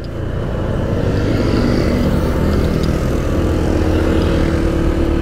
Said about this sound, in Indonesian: Macet ternyata di sini ya.